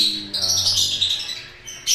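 Pet finches bred in an aviary give a quick burst of high, bright chirps with a brief lower tone under them, then fall quiet before one last sharp call.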